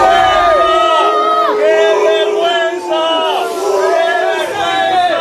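Football supporters outside a team hotel in Lisbon shout and boo loudly as the players arrive, a dense, continuous crowd roar with ragged rising and falling cries layered throughout.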